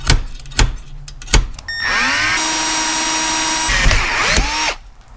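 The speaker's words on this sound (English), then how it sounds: "I'm going to drill a hole right through that guy and tap it." Several sharp clicks, then a power drill whines up and runs steadily at close range, its pitch sagging as it bites into a metal bolt before stopping.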